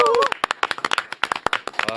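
A studio audience claps to welcome a guest on a Korean talk show, irregular individual claps rather than a dense ovation, close and fairly loud, with a voice speaking at the start and end.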